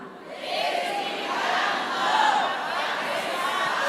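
A church congregation shouting together on a count, a broad sustained roar of many voices rising and holding for several seconds.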